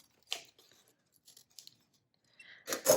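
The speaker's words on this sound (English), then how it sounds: "just trim it down with your scissors or with a cardboard cutter" Scissors cut cardboard in a few short, crisp snips and scrapes, close up and quiet, separated by brief pauses, with a louder burst of cutting at the end.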